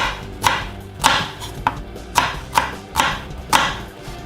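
A kitchen knife chops through vegetables on a cutting board with seven evenly spaced, crisp thuds about half a second apart, loud and close with no speech.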